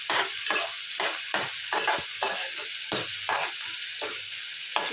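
Onion fries on high heat in a pan and is stirred repeatedly, a constant close sizzle broken by regular scraping strokes of the spoon, roughly two per second, with no talking.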